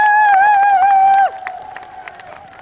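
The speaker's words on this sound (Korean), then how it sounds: "큰 박수 한번 주십시오." At an election campaign rally in the Yeongcheon public market, a long sustained vocal tone rings out loudly before cutting off, leaving scattered clapping and crowd cheers trailing at a lower level.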